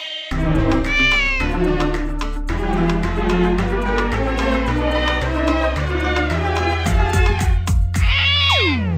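Repeated cat meows set within a Hindi children's rhyme, heard over loud, continuous music with sung melody throughout, plus a brighter meow-like cry near the end.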